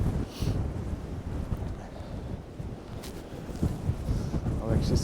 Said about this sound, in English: The wind is absolutely ridiculously gnarly.